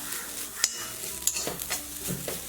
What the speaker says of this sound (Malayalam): അപ്പം ഇത് ഇത്രയും കൂടി ഇതിലേക്ക് ഇട്ടിട്ട് ഇതൊന്ന് ഇളക്കിയെടുക്കാം.